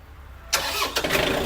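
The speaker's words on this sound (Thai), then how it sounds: "เครื่องยนต์นะครับ สตาร์ทติดง่ายนะครับ เสียงเครื่องนะครับ นิ่มๆเลยนะครับ" A 2023 Yanmar YM351A 51-horsepower tractor with 100 hours of use cranks and fires at about half a second, then settles into a loud, close, steady engine run with a brief surge near one second.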